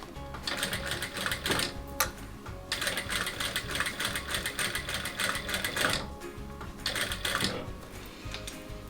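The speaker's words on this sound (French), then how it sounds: "Et on continue à piquer sur tout le long du sac" A domestic sewing machine stitching along the length of a tote bag, fast rhythmic mechanical whirring in close bursts separated by short pauses as the fabric is guided.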